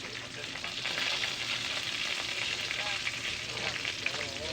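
Fish frying in a pan gives off a steady, moderately quiet sizzle and crackle, with faint stirring and no talking over it.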